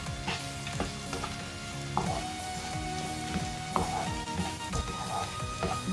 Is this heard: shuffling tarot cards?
no